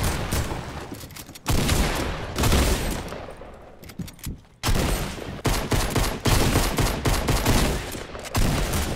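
Gunfire in a battle royale video game, including a SCAR rifle, comes as loud, dense bursts of rapid shots and fusillades with brief pauses, close and continuous.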